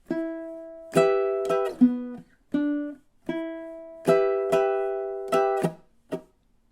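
Plucked ukulele notes and chords play a short, halting minor blues riff, each strum ringing briefly before the next, clear and close.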